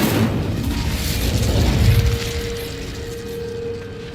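An Incendio fire spell is cast in the Hogwarts Legacy video game, a loud whooshing, crackling burst that swells to a peak and then fades into a lingering tonal hum, with no talk.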